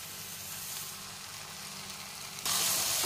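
Basmati rice sautés in a hot pan for masala rice, a soft continuous sizzle with faint stirring scrapes that swells suddenly louder near the end, no voices.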